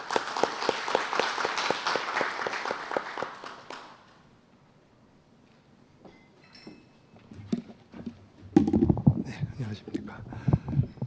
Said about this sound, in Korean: 예, 큰 박수로 맞이해 주시기 바랍니다.